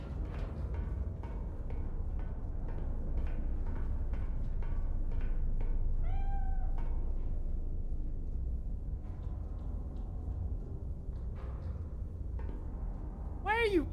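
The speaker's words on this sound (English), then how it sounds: "Good kitty." A pet cat meows indoors: a drawn-out call midway and a sharper rising meow at the end, both heard over a steady low household hum with faint clicks and shuffling.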